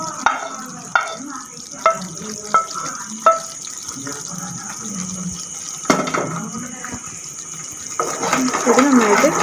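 Homemade wheat halwa with ghee and fried cashews is stirred in a pan, with a series of regular scraping knocks at first, then a softer, thicker churning that builds toward the end.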